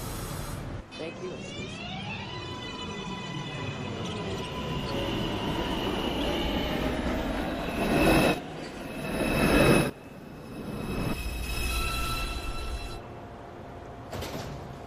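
A New York City subway 2 train pulls into Lincoln Center station, with a rising motor whine, rumbling wheels and squeals, then doors thumping open and shut amid platform noise and an automated announcement voice.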